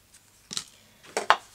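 Scissors snip paper in close, crisp cuts: a faint tick, then a pair of snips, a pause, and another quick pair, quiet overall with no talk.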